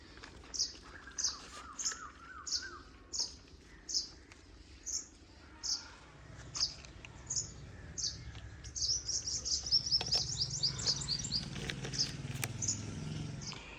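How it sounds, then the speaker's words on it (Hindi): An Asian koel calls in a Pakistani village, giving a long run of repeated, evenly spaced high call notes at moderate distance. A faster twittering burst joins near the end over a low background rumble. "आवाज़ें सुनने को मिल रही हैं कोयल की।"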